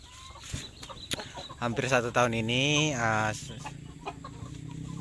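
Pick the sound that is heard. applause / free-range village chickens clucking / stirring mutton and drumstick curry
free-range village chickens clucking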